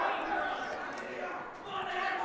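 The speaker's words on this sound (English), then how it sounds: "A lot of cheering going for the Penwood side as well." A crowd cheers and shouts at a high school wrestling match in a gym, a continuous roar that swells and dips under a commentator's voice.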